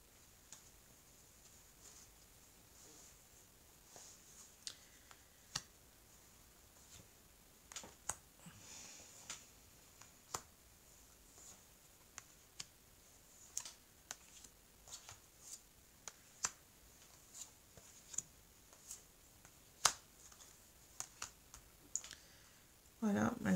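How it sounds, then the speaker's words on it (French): Tarot cards spread out across a table during a reading, giving scattered light clicks and taps of card edges over about twenty seconds, with a voice speaking intermittently throughout. "Alors je vais étaler les cartes."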